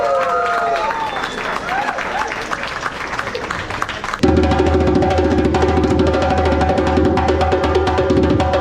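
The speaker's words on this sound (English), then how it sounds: "A big round of applause" A school audience at a children's theater performance gives a loud round of applause and crowd noise, then a steady drum groove with a deep pulse cuts in midway and carries on to the end.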